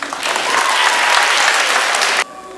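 Schoolchildren at Félix-Leclerc school applaud the mayor of Saint-Constant in a dense, loud burst of clapping that holds steady, then cuts off abruptly near the end.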